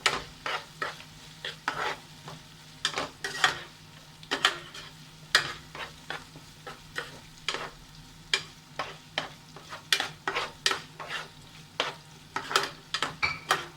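Chopped capsicum and chicken being sautéed for restaurant-style chilli chicken, a spatula scraping and stirring in the pan in irregular strokes over a soft steady sizzle, close and moderately quiet.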